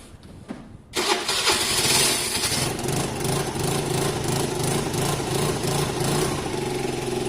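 A Vespa scooter with a troubled 125cc-to-50cc-to-125cc engine conversion and bad electrics cranks and catches after a second, then settles into a steady, loud, close-up running idle that carries on to the end.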